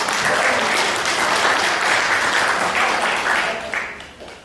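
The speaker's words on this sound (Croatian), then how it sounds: "To zaslužuje aplauz." A crowd at a gathering in a hall breaks into loud, dense applause that holds steady for several seconds and then fades out.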